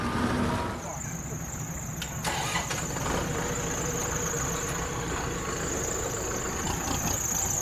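A 60-horsepower farm tractor engine strains under load while pulling a ten-wheel truck, a steady loud labouring drone with a high whine running throughout, and voices are heard in the background.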